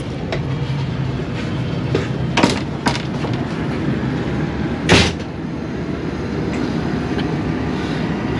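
Bahauddin Zakaria Express passenger train pulling out of Shujabad railway station, a steady rumbling rolling noise throughout, punctuated by a few sharp metallic clanks and bangs, loudest near the middle.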